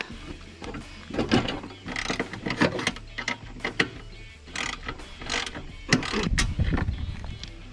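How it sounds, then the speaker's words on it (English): A socket ratchet and 13mm wrench work a bolt and nut loose on a Toro Recycler lawn mower, giving irregular clicks, scrapes and metallic clatter in short bursts, fairly quiet and close. "Socket on top here. and 13mm wrench. Let's get that nut back there and get this bolt off."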